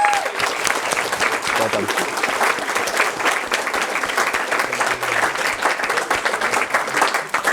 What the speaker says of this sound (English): Can you stand up and take a round of applause, please?